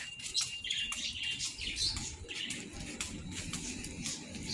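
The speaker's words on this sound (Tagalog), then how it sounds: "ang daming ibon dito oh. Maingay sila maliliit" Lots of small birds chirp and twitter together, a busy, fairly faint chorus of high calls over low background rumble.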